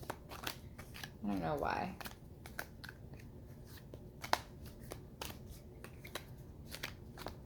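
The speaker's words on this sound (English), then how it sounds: "Sorry, you guys can't see me shuffle." A heavy deck of cards being shuffled, a soft riffling burst in the middle with scattered light clicks and taps, close by, while a person talks quietly.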